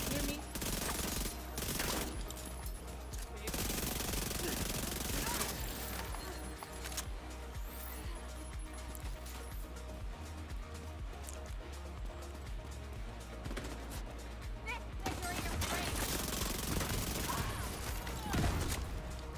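Turret firing in the video game The Division 2 during a heroic PvE mission, a dense, continuous rattle of rapid automatic gunfire at steady loudness with mechanical clatter, lasting throughout.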